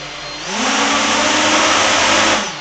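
Motors of a 7-inch long-range ArduCopter drone spin up from a low idle into a loud, steady whine that holds for about two seconds before easing off, with no voices.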